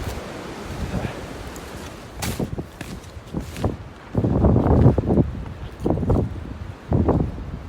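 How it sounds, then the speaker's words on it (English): Wind gusting through the woods on a snowy Owl's Head mountain trail with about a foot of fresh snow, coming in uneven rushes that swell and fade over several seconds, with no talking. "Nice and windy."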